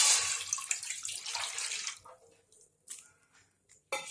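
Water pours into powdered milk for malai sandesh, a close, bright splashing stream that tapers off after about two seconds, followed by a couple of short drips and pours.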